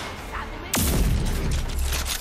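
Shotgun fire in the video game Rage 2: one sharp, loud blast with a booming tail that rings on, then trailing game noise and rumble.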